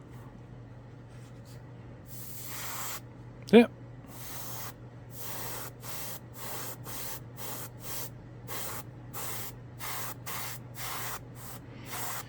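A gravity-feed airbrush sprays in a series of short, regular hissing bursts over a low steady hum, with a brief squeak and a voice at one point.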